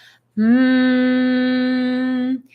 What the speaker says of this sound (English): So you can hear my humming.